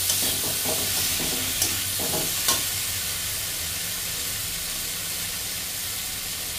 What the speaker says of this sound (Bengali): এবার এটাকে আমি ভালো করে কষাবো।